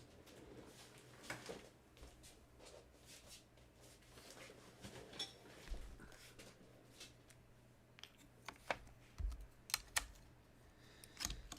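Someone types on a mechanical keyboard fitted with Kailh tactile switches. The keystrokes come as clear, irregular bursts of clacks at close range over a low steady hum, with no talking.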